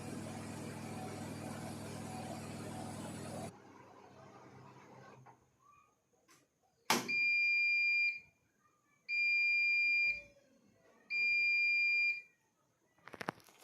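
End-of-wash alert from a Bosch front load washing machine: three loud, close electronic beeps, each lasting about a second with short gaps, following a stretch of machine running noise and then quiet.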